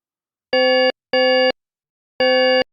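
Glassy synth one-shots built in Serum 2 with spaced harmonics, three short bright bell-like tones, two in quick succession and one after a pause, each clean and sustained before a clipped ending, alone without talk.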